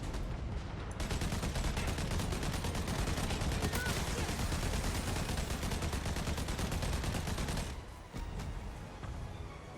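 Mounted guns blaze in a video game as bugs flood out of the sea. A dense, rapid fusillade of shots keeps going for several seconds at loud, close range, then cuts off abruptly.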